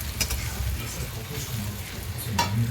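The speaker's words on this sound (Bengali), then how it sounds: "এই যে পেঁয়াজ ভাজা হচ্ছে" Onions fry in a pan with a steady soft sizzle, faint and continuous, with a few light scraping stirs mixed in.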